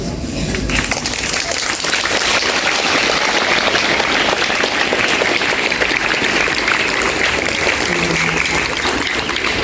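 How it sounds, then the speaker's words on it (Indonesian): Students at a National Teachers' Day award ceremony give their teachers loud, lively applause, a dense and continuous roar of clapping that holds at full strength for nearly ten seconds. "saya minta kalian memberikan tepuk tangan yang meriah"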